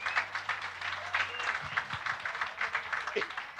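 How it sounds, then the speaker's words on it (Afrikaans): An audience claps for a traditional boereorkes band at the Rumoerfees 2024 competition. The applause is steady and moderate, with a low hum underneath and faint voices in the crowd. "Geef hulle lekker hande klap."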